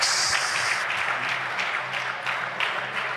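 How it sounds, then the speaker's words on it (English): Audience applause at a badminton men's final at the BDO Namibian Open, a short burst of clapping from a modest crowd in a hall, fairly close, with no talk over it. "Great applause."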